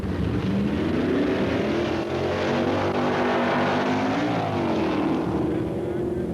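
At the 1965 AHRA Winternationals, a Dodge and a Chevy drag race, their engines roaring loudly in a continuous rising and falling drone, with an announcer talking over them.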